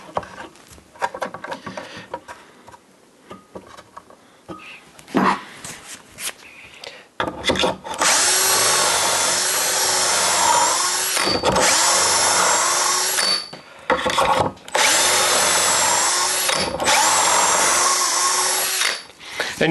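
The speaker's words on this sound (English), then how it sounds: "you can see I'm drilling right through that sacrificial board there" Power drill boring through a sacrificial wooden board while building a simple shelving unit: a few seconds of light handling and tapping, then loud, steady, close whining runs broken by brief pauses.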